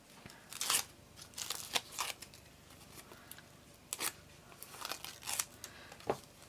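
Scissors snip through craft foam in a quick series of close, crisp crunching cuts, several bursts with short pauses between, no talking.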